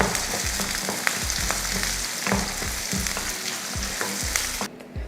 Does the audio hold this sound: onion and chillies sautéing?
yes